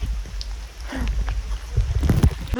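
Rain falls steadily at the hill station of Matheran, a dense hiss of drops with heavier patter and splashes on nearby surfaces growing louder toward the end.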